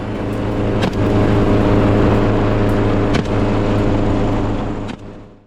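A helicopter flies during a wild boar hunt, its rotor and engine giving a loud, close, continuous drone, broken by a few sharp cracks that could be gunshots, before it fades slightly at the end.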